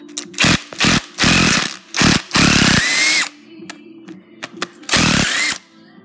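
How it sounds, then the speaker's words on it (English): Power drill, held left-handed, runs in short and longer bursts while removing bolts during a Buick V6 parts motor teardown, with loud whirring and pitch changes as the speed varies, and quiet gaps between the bursts. "I'm holding the drill with my left hand"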